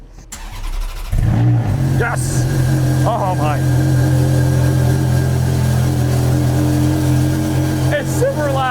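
A one-off Ferrari's engine, started with jumper cables, cranks and fires about a second in, then settles into a loud, deep, steady idle close by, while a person exclaims briefly over it.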